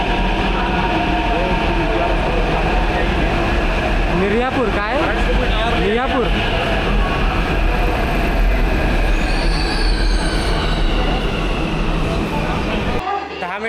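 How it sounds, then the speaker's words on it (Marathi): A Hyderabad metro train pulls into the station, a steady loud rumble with squealing wheel tones rising and falling midway, while people talk nearby throughout. "मेट्रो आली आपली, मेट्रो."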